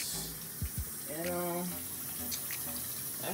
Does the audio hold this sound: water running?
yes